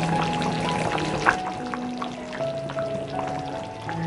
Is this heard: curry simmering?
yes